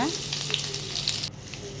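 Onion and dried red chilli frying in sesame oil, a steady close sizzle with a brief louder crackle near the start, no talking over it.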